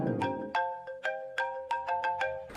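Melodic phone ringtone for an incoming call, a repeating pattern of bright chiming notes played clearly and alone at moderate loudness.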